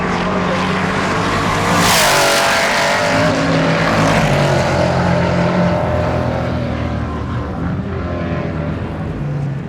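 A race car at the RAC TT roars past with a loud, sustained engine note that swells around the two-second mark and stays strong, with gear-shift changes in pitch throughout; no one talks.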